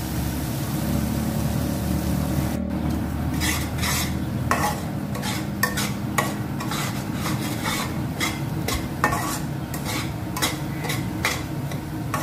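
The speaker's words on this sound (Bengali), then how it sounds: "আমি ঢেলে দিলাম মশলাগুলো কিছু সময় ভাজা করব।" Ground spices frying in a pan for a vegetarian stuffed pointed gourd dish, with a steady sizzle under repeated scraping strokes of a spoon or spatula against the pan, close and fairly loud.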